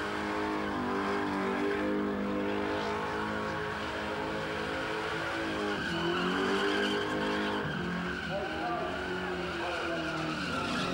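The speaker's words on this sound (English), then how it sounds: "I tell you what, he doesn't mind giving a bit of a rev either." A small car does a smoky burnout at a Summernats burnout elimination, its engine screaming on the rev limiter while the tyres squeal and skid continuously, loud and unbroken.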